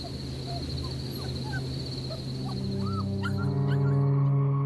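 An injured dog whimpers in a few thin, high, wavering cries over steady outdoor background noise, with a crow cawing and a low droning sound that swells toward the end.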